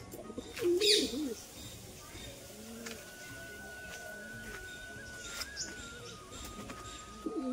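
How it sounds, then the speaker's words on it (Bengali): Pigeons (giribaz tumbler breed) coo softly at a rooftop loft, low repeated coos with a brief flutter of wings near the start, while a person talks over them. "এই যে দুখানা পায়রা উঠছে।"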